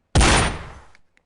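A single loud gunshot in the VR shooting game Gun Club VR, a sharp close blast with a short decaying tail, alone without talk.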